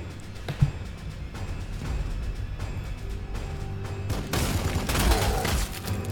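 Gunfire in the strategy game Sanctus Reach, with a rumbling burst of shots and explosions that builds and grows louder toward the end over a steady low drone.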